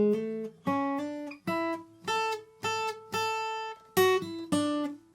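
Electric guitar playing the solo section of a song, a run of six or seven sustained, bending blues phrases with hammer-ons, loud and alone with no talking.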